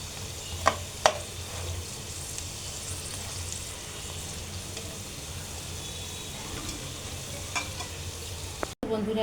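Semolina and sour yogurt pakoras sizzle steadily in very hot oil, a continuous close frying hiss with a few faint clinks, no voices.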